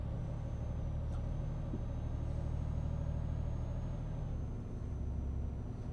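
Truck engine in Euro Truck Simulator 2 while pulling a tandem trailer, a steady loud low drone that holds throughout and shifts pitch slightly near the end.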